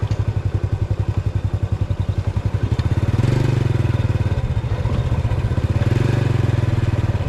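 A motorcycle rides along a newly cemented, steeply descending road toward a river crossing, its engine throbbing steadily and close with a rhythmic pulse that swells louder partway through, no talk over it.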